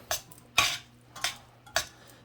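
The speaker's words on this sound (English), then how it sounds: "I'm just going to hit it with a little olive oil and stir it up good so it doesn't stick together" Drained pasta is stirred with olive oil in a pot: four distinct scraping strokes of a utensil against the pot, close and fairly quiet, with short gaps between them.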